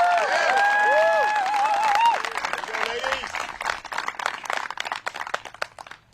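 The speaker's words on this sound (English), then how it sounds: "Let's give these two competitors a big round of applause to kick things off." Spectators applaud and cheer at a disc golf match play championship final, a dense burst of clapping that follows an announcer's voice and then thins into scattered claps and crowd noise over several seconds.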